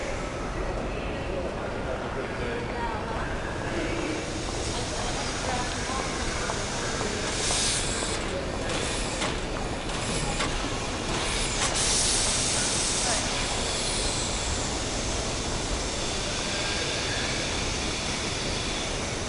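A steam train hisses at a station in the Agatha Christie: Murder on the Orient Express video game, a steady close broadband hiss with brief louder spurts of steam midway.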